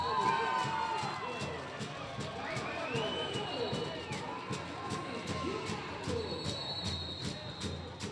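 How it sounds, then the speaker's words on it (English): Steady roar of a rugby crowd at a USA versus Brazil women's match, sustained cheering and shouting with whistles and scattered voices, fairly distant and continuous throughout. "The crowd going nuts after that turnover."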